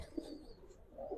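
Giribaz pigeons give a couple of faint, low coos at close range in a quiet setting.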